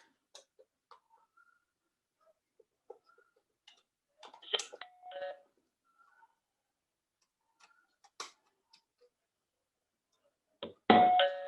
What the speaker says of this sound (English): as soon as I trigger my PIR sensor, you can hear the doorbell sound